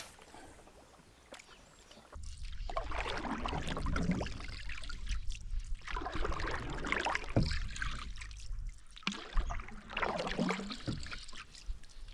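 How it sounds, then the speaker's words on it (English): A canoe paddled along a river in a wild Australian gorge, steady splashing and dripping paddle strokes with water gurgling against the hull, close and continuous without talk. "while we paddle through these trees"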